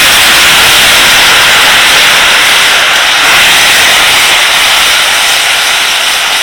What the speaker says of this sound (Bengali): এবার আমি এর মধ্যে দিয়ে দেবো অল্প একটু জল।